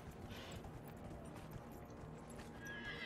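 Horse hooves clip-clop steadily in the video game Dragon Age: Inquisition, with occasional whinnies layered over a continuous game soundscape at moderate loudness.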